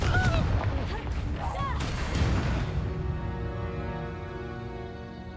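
Confringo fire-blast spell explosions in the video game Hogwarts Legacy: loud, close booming bursts over the first two seconds, then a lingering tonal ring that fades slowly.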